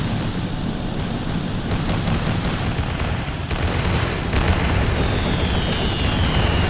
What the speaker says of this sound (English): Let's just drop more bombs.